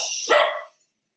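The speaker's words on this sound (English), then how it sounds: "Those are the dogs." Dogs barking indoors in a short burst, a single loud bark rising over a broader noisy yelp, close to the microphone, then cutting off into silence.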